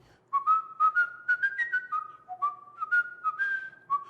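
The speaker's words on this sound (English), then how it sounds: "this is how most people would whistle Pop Goes a Weasel." A person whistles Pop Goes the Weasel in a plain, typical style: a clear solo tune of short, evenly paced notes with little ornament, close and alone.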